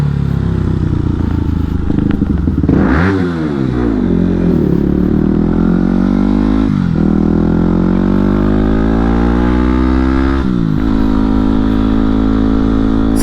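A mostly stock 2008 Yamaha WR250X supermoto runs continuously while being ridden, its engine note climbing and falling through repeated rev sweeps and gear changes, loud and close throughout.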